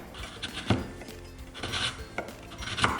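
A block of palm sugar is finely shaved with a knife, making soft, irregular scraping strokes at close range, with no talk.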